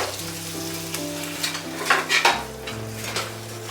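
Hamburger meat for chili sizzles and fries steadily in a pan, with a few stirring scrapes and clinks of utensil on metal rising midway, close and continuous with no talking.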